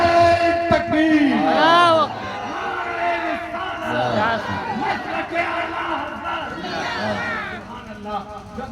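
A crowd at a religious gathering chants a slogan back in unison, loud massed voices rising in repeated surges with a lead voice calling between them.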